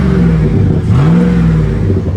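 A 2007 Chevrolet 1500 Z71 crew cab pickup's engine runs close by, loud and throaty as if lacking a muffler, with a steady low idle rumble and a brief rise in revs midway.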